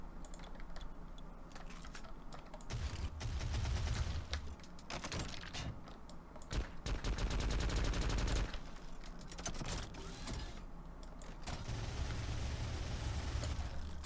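A chain gun fires in a Doom mod inside Garry's Mod, with rapid rattling bursts of automatic fire that stop and restart several times, fairly loud and unbroken by talk.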